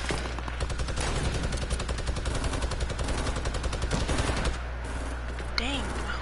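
Rapid gunfire in the video game Fortnite, a dense, sustained burst of automatic shots close and loud, running almost continuously before easing off near the end.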